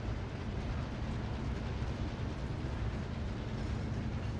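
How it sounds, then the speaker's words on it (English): A train moving in the video game Call of Duty Warzone, a low continuous rumbling roll with a steady mechanical drone, heard close and fairly quiet with no talk over it. "Are you running behind the train?"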